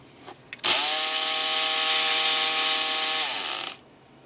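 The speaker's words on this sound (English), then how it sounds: "A Dremel with one of those silicone wheels on it." A Black & Decker RTX Dremel-style rotary tool with a silicone wheel, used for sharpening a 0.5 mm drill bit, starts up with a click and runs as a steady high whine for about three seconds before winding down.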